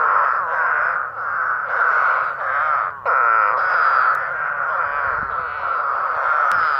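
Spadefoot toads calling, a chorus of drawn-out, moaning wails that overlap in repeated swells, fairly close and loud, with no voices.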